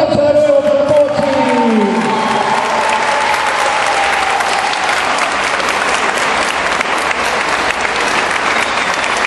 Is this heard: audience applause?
yes